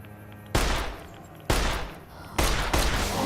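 Loud gunfire in Fallout New Vegas, heard as three heavy, close blasts spaced about a second apart. Each one booms and trails off into a noisy decay, with a quick extra crack near the end.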